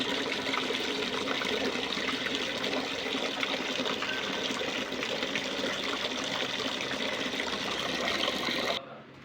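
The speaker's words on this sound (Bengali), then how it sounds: "তা এখন আমরা জলটা ভরে রেখে দেবো।" Drinking water rushes steadily into a bucket from a tap, a loud, continuous gushing close by that cuts off abruptly near the end.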